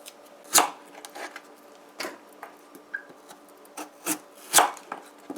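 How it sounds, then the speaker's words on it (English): Potatoes being peeled by hand, a series of short scraping and rasping strokes with a rough rhythm of about one every half second, close and fairly loud with no talking. "first thing we're going to peel our potatoes"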